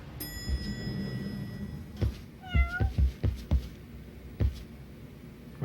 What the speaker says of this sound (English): Wait, what? A cat?